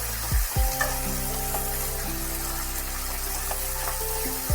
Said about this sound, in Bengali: আলু আমি এভাবে তেলেতে ভেজে ফোড়ন দিয়ে একেবারে করে নিচ্ছি